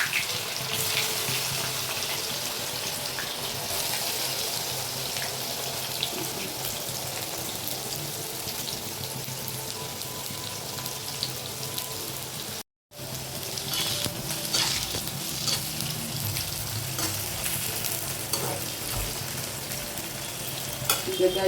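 Bitter gourd slices fry in hot oil with a dense, steady sizzle and crackle heard up close, broken by one brief cut to silence.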